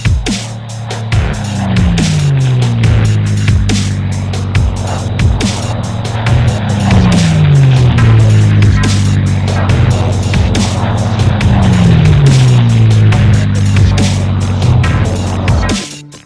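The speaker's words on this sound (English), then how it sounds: "This is an 860 kV brushless motor" An Emax GT2826 860Kv brushless motor on a bench test spins up loudly in repeated rising whines, each climbing in pitch before settling, with sharp clicks scattered throughout and no talking.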